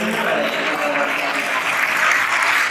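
Steady, dense applause from an audience at a sports awards gala, continuous and fairly loud throughout without a clear break.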